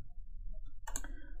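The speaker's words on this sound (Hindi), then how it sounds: "डबल क्लिक कर दो" A computer mouse double-clicks in an Excel spreadsheet, giving a single short, crisp click burst near the middle of an otherwise quiet stretch with low background hum.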